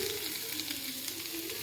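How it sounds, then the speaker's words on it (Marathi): Potatoes and vegetables sautéing in a hot pan for a bhaji, a steady close sizzle and crackle of frying that continues without pause and without voices. "बटाटे घालून आपण भाजी परतून घेऊ."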